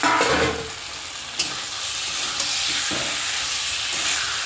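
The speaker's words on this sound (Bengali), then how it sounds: "এবার মাংসটা কষাবো আস্তে আস্তে আস্তে আস্তে করে সব মাংসগুলো দিয়ে দিচ্ছি" Chicken meat frying with spices in a pan gives a steady, close bright sizzle and hiss, with a louder burst at the start and a few soft knocks as the pieces are added and stirred.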